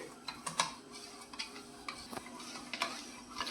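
A spoon stirs warm milk with sugar and ghee in a bowl, dissolving the sugar for sakarpara dough; soft scraping clicks come in an irregular rhythm, close and quiet, with no talking.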